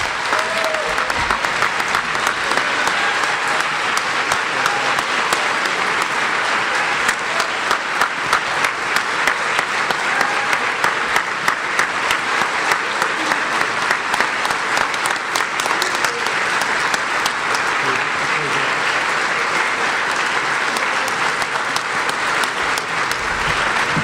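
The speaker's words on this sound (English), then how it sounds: "We can keep applauding him." A large audience applauds steadily for about twenty-four seconds at a student-athlete awards ceremony, the dense clapping staying loud and even throughout with no break.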